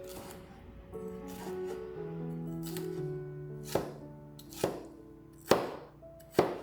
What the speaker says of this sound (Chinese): 切成丁状